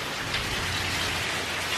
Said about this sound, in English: So it started raining earlier today,